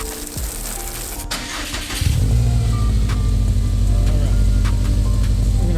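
A Subaru WRX engine revs up loud and close, its rumbling exhaust note rising sharply and then holding at a steady, throaty drone.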